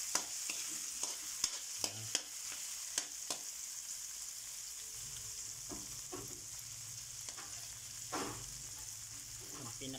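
Ingredients for pinakbet with squid sautéing in a pan give a steady soft sizzle, broken by a few sharp clanks and stirring scrapes of a utensil against the pan, quiet and close.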